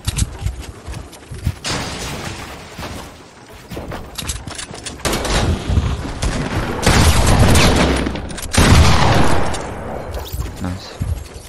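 Rapid bursts of gunfire from a Fortnite battle royale match crackle loudly in clusters, interleaved with booms and mechanical clatter, with brief quieter gaps between volleys.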